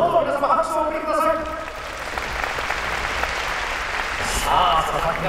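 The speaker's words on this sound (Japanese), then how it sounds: "どうぞ皆様拍手をお送りください。" Applause from the crowd at a boxing match goes on under a commentator's continuous talk. It stays moderate and steady through the final-round buildup, with another voice briefly joining.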